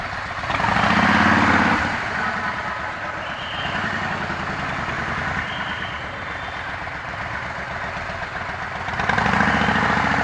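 A heavy motorcycle idles with a steady, loud engine rumble that swells slightly near the start and again at the end, no talking over it.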